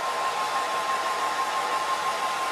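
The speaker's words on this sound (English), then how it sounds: "I'm going to put a little bit of hairdryer on. Let's dry that off" A hair dryer blows steadily to dry a watercolour painting, a close, even whooshing hiss with a faint high whine, unbroken from start to end.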